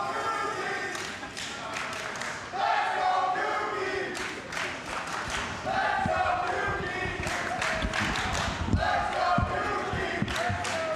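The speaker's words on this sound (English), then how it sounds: "Crowd loves it." Spectators at the Classic Tetris World Championship semifinals cheer and clap, mixed voices swelling in bursts with scattered sharp claps throughout.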